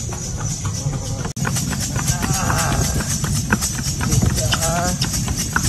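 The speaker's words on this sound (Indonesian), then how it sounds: "Kita muterin Pulau Gili Trawangan dengan andong." Horse-drawn andong cart clip-clopping along the roads of Gili Trawangan island, Lombok, Indonesia; steady hoofbeats run throughout under continuous people talking and a busy outdoor background.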